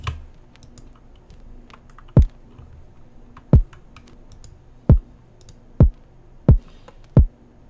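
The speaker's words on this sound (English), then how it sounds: "And then I've got a kick layered on top of that." Punchy kick drum for a beat, six sharp thumping hits at uneven intervals, crisp and close, faintly layered over a low 808 bass hum.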